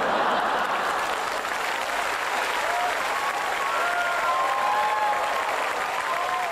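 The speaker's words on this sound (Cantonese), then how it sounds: "自己啱啱拍手要話鼓起幾大勇氣嘅" A theater audience at a live stand-up comedy show bursts into steady, dense applause, loud and sustained throughout with no pauses.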